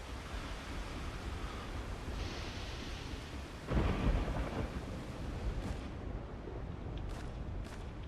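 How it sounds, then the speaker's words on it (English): Rain hisses steadily in a video game while thunder breaks midway with a heavy, close rumble that swells and fades back into the downpour, with no talk. "it rains everywhere in this game"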